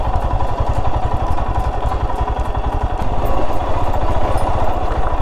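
Motorcycle engine running close by with a steady, loud, rapid putter and mechanical clatter throughout, no voices.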